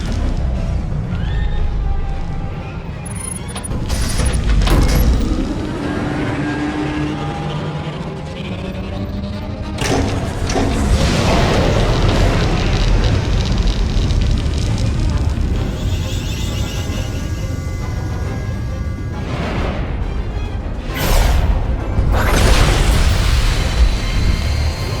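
Silencer superweapon firing on an enemy fleet in the Star Wars: The Old Republic space battle, a sustained roaring barrage of booms and bursts swelling across the whole stretch, loudest near the start and again toward the end.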